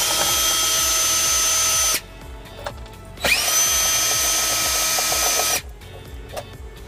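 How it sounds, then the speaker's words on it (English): Electric drill spinning a 10 mm socket on body panel bolts of a 2017 Hyundai Elantra, two loud sustained whirring runs with a rising pitch as each starts, separated by short quiet gaps and ratcheting clicks. "So I'm just going to use this electric drill with a 10 millimeter socket to get those bolts out first."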